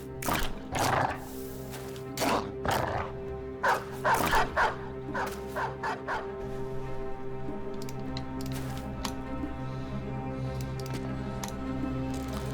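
Dogs barking in a video game, a run of quick excited yips and barks over a steady droning game soundtrack that carries on after the barking fades.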